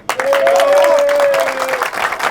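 Applause and crowd noise at a race podium ceremony for the Turkish track championship Super Group race, dense clapping that swells quickly and holds under an amplified announcer's voice.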